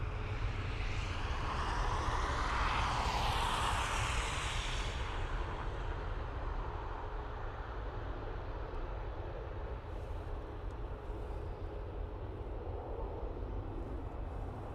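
A Ryanair 737 MAX 8 airliner departs Dublin Airport for Edinburgh, its jet roar swelling loud and broad before settling into a steady, slowly fading rumble that carries on without talk.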